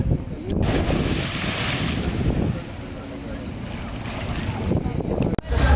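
Choppy sea waves wash around a tour boat off Ölüdeniz, Fethiye, with steady wind buffeting and water rushing close by, and some voices mixed in.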